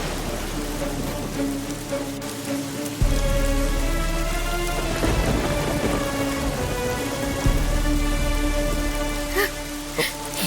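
Steady, loud rain pours outside a house, with a dense wash of drops hitting surfaces throughout, occasional heavier splashes, and a low rumble like distant thunder underneath.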